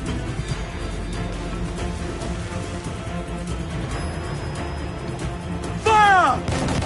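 Ship cannons fire during a naval battle in Assassin's Creed 4 Black Flag, with a steady rumbling, crackling bombardment and a louder blast near the end under a whistling, sweeping effect.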